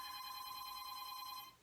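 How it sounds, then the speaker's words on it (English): A landline telephone rings with a steady electronic trill that stays loud and continuous, then cuts off near the end and leaves a quiet room. "why is my landline ringing?"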